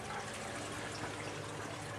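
A siphon in a garden bed for tomatoes and peppers flushes, a steady close gush of draining water that rushes on without a break for a couple of seconds.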